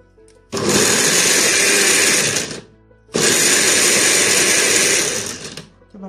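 An electric blender minces lemon and spices in two loud, steady whirring bursts, each about two seconds long, with a short pause between them.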